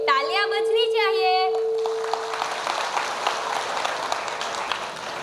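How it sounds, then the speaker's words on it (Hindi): Audience applauding the children at a Gujarati-medium school annual function for grades 6 to 8, a steady wash of clapping from a seated crowd that rises after an amplified voice holds a long note and keeps going to the end. "स्कूल के बच्चों के लिए तालियां बजनी चाहिए।"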